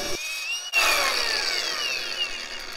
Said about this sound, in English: I get the grinder because wire brushes just pretty much